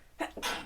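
A single sharp sneeze from a person during a podcast conversation, a short intake followed by a bright, noisy burst, close and fairly loud.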